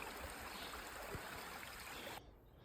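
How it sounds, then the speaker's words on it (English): A spring-fed stream running across wet ground in spring, a faint, steady outdoor wash of flowing water that cuts off abruptly near the end. "The Max Springs is flowing well, as you'd expect at this time of year"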